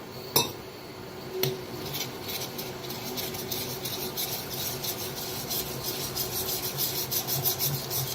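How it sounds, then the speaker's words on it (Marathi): A spoon stirs and scrapes gram flour (besan) and water batter around a metal pot, a steady close rasping that grows busier toward the end, with no voices. "तर थोडं थोडं पाणी ओतून बेसनला मिक्स करून घेऊया।"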